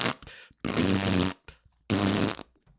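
A voice imitates loud, buzzing public-restroom farts in two long, raspy bursts, each about three-quarters of a second, separated by short gaps and small sputtering blips, close and forceful.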